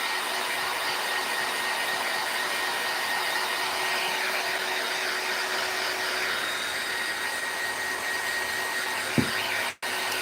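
A hair dryer blows steadily on Mod Podge coated over a cinnamon craft, a loud, continuous whooshing whine that runs unbroken for about nine seconds before a sharp knock and abrupt cutoff near the end.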